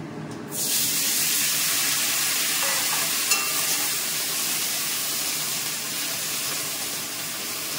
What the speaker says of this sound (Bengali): ফোড়নটা হয়ে গেছে, এবার আমি ঢেঁড়সটা ছেড়ে দিচ্ছি।